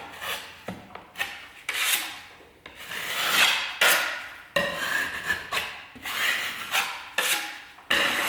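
A filler knife spreads and smooths compound over a ceiling crack, making close, repeated scraping and rubbing strokes in a steady rhythm with short pauses between passes, no talking.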